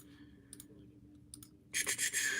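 Light clicking on a computer keyboard, a few sparse taps followed by a brief louder cluster of quick clicks near the end, close and clear with a faint steady hum beneath.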